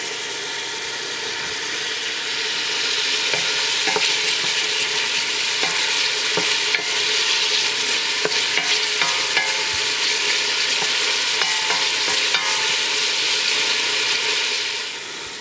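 Thick-sliced homemade bacon fries in a pan for coq au vin, with a loud, continuous close sizzle scattered with small crackling pops throughout.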